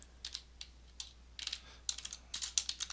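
Someone types on a computer keyboard, with quiet, irregular bursts of clicking keys that come in short runs and grow denser toward the end.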